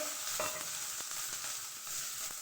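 Dried red chillies, garlic and onion frying in a pan for tomato chutney, producing a continuous bright sizzle punctuated by soft rhythmic stirring scrapes, close and moderately quiet.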